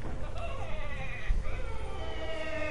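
Sheep Creep, a sheep character in the Skylanders video game, lets out a wavering, plaintive bleat over game music, with people talking.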